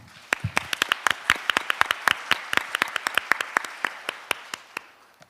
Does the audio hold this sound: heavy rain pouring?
no